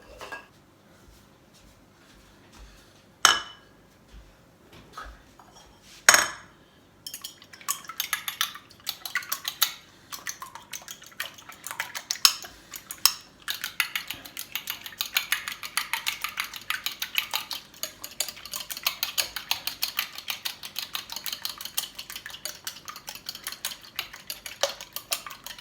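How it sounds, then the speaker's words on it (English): Two eggs being beaten in a bowl for banana bread: a few sharp clanks at first, then a fast, steady clinking and scraping of a utensil against the bowl that runs on without any talking. "So we need to beat these 2 eggs."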